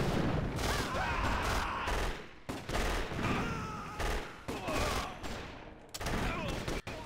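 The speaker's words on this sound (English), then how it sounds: "Machine guns away." Sustained rattling machine-gun fire and scattered blasts in a World War II real-time strategy battle during an invasion of India, dense and continuous through the clip, fairly loud.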